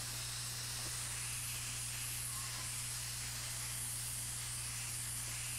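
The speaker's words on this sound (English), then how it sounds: "Get the vacuum in here." A steady, even whooshing hiss with a low constant hum underneath, unbroken from start to finish and fairly quiet, like a small vacuum running nearby in a guitar repair workshop.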